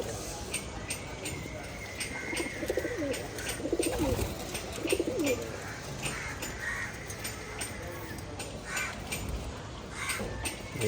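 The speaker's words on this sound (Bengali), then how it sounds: "আলহামদুলিল্লাহ অনেক ভালো, এখন কবুতরগুলো সুস্থ।" Pet pigeons coo softly in low, rolling phrases, joined by other bird calls and scattered clicks and knocks, with a person talking at times.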